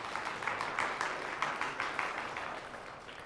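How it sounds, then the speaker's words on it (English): Audience at a quiz game match breaks into sustained applause, a dense even wash of clapping with a few louder bursts, fairly faint and distant. "That was pent-up applause for nearly running the category, Miguel."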